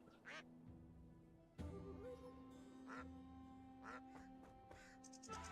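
A duck quacks repeatedly in the wuxia game Wandering Sword, several nasal quacks spaced irregularly over faint background music, fairly soft overall.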